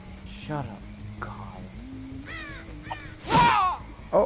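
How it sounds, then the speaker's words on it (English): A crow caws several times in Grand Theft Auto, loud harsh calls from close by. Players talk casually over and between the calls. "Oh, I just hit a crow."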